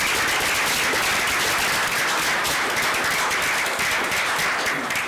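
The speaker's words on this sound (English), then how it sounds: "I think that's worthy of another round of applause" A steady round of applause fills a board of directors meeting room, dense clapping from many hands holding at an even, loud level throughout with no break and no voices over it.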